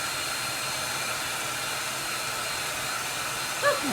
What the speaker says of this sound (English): Let me hit the button for my hair dryer. Whoop, there it goes.